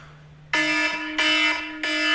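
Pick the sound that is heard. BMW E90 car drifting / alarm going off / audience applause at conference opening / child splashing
alarm going off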